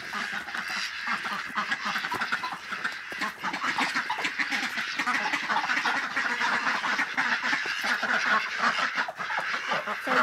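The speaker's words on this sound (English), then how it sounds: "They're a mix between wild ducks and also tame domestic ducks." A dense flock of aigamo ducks, a wild and domestic hybrid kept on an organic Japanese farm, quacks continuously and loudly nearby, their overlapping calls forming a steady chorus.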